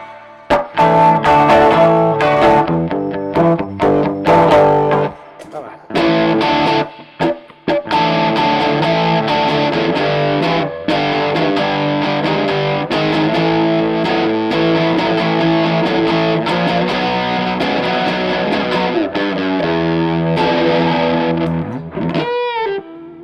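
An electric guitar styled as a 1951 Broadcaster Telecaster, fitted with a single-coil and a humbucker, plays with distortion. Loud chords ring out in bursts and then settle into a long sustained passage, ending in a short squealing slide.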